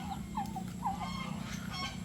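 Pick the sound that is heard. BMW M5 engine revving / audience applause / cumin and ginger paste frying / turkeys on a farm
turkeys on a farm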